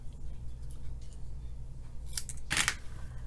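Scissors snip through cardstock while making a penguin fun fold card, a quick pair of crisp cuts near the end over a low steady background hum.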